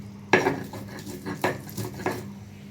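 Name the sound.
wok (kadai) being set on the stove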